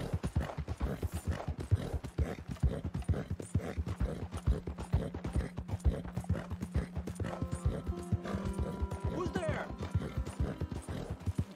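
Horse hooves clip-clop in a steady rhythmic gait in Red Dead Redemption 2, close and distinct, with a brief whinny and a voice talking over the hoofbeats.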